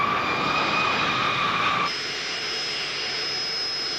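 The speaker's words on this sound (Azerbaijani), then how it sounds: "1992-ci il mayın 28-də 2 Boeing təyyarəsi Naxçıvanda yerə indi." A Boeing airliner landing at Nakhchivan in 1992, its jet engines giving a loud, continuous roar with a high whine that shifts pitch partway through and then settles a little quieter.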